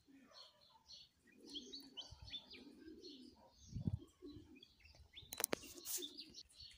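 Pigeons in a racing loft coo softly and chirp in a busy, overlapping chorus, with a few brief bursts of wing flapping and thumps close by, all fairly faint.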